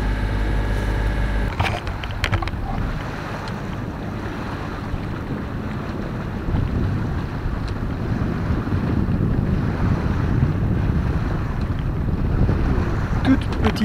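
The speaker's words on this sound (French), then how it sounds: "il y a une toute petite risée de vent" Steady wind rushing across the microphone aboard a sailboat on the return passage from Île de Ré in a very light breeze, with a constant low roar and faint water wash, no one speaking.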